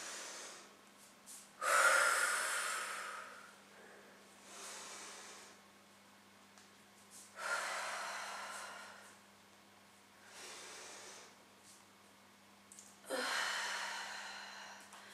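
Heavy breathing from someone catching their breath mid-way through an at-home HIIT thigh and glute workout: four loud, gasping exhales come at spaced intervals, with quiet stretches between and no speech.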